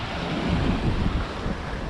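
Ocean waves wash onto a shore as the tide goes out, heard as a steady broadband roar with wind buffeting the microphone, continuous and fairly loud with no voices.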